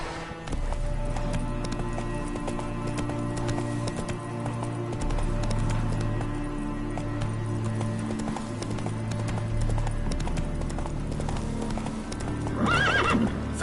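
Roach, Geralt's horse in The Witcher 3, gallops with rapid, rhythmic hoofbeats that carry on throughout over a steady low rumble, and a whinny breaks out near the end.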